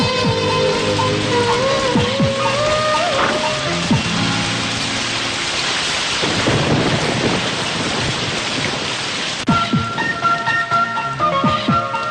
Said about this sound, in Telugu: వర్షం పడుతుంది కదని